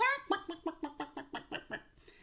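A voice imitates a chicken, giving about nine evenly spaced, nasal clucks close up, each one slightly quieter than the last.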